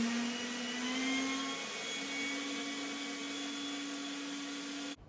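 A WOLFBOX MT600 cordless leaf blower runs close by with a steady high whine, its pitch stepping up slightly as the power setting is changed, then cutting off sharply at the end.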